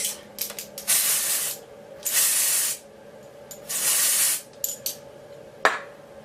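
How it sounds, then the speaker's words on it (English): Hair root touch-up colour spray fires in three long, close hissing bursts, mixed with brief, quieter spritzes and small clicks from the can. No one speaks. "just spray a little bit to darken up the roots"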